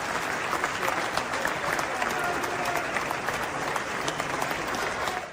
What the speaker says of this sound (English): here you can see the standing ovation that President Trump got